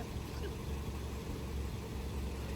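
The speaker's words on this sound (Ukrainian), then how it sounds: "Хай машина виїде." A car engine idles low and steady as the vehicle rolls off a river ferry on the Desna, a faint, rumbling hum against a noisy outdoor background with no clear speech.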